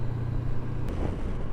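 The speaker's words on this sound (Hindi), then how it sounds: "चलिए अब ये ट्रैफिक देखते हैं।" Road traffic rolls past, heard as a steady, loud low rumble of car and motorcycle engines with no voices over it.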